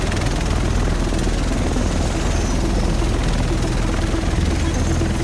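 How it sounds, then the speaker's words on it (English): Helicopter in the video game The Division, a steady loud rotor and engine drone that fills the whole stretch without a break. "The rest of us should be in this chopper."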